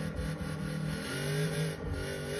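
Toyota Hilux pickup engine in a driving video game, revving and droning continuously with shifting pitch as the truck accelerates off-road, loud and steady throughout with no talking.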